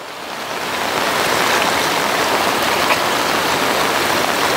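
Water from the Bhalu Khola stream source rushes steadily into an intake tank during the monsoon, a dense, continuous broadband wash that holds close and loud without pause.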